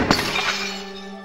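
A mirror shatters in the video game The Note: one sharp close glass break followed by ringing shards and a fading tonal decay.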